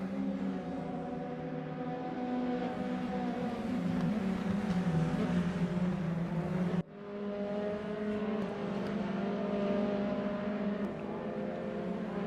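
Race cars lap Silverstone National in a racing video game, engines droning with layered whining tones that rise and fall, a brief cut midway, no voices.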